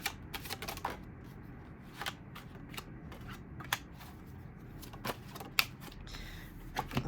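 Tarot cards are dealt out one by one for a spread, giving a string of crisp, close card slaps and flicks at an uneven pace over a soft, steady background hiss.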